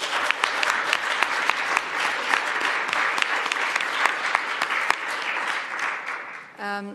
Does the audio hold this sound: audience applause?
yes